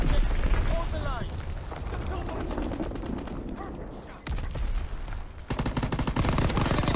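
Rapid PPSh-41 submachine gun bursts crackle through a busy World War II video game battle, layered with distant explosions and battlefield noise, while radio-style voices give announcements over the din.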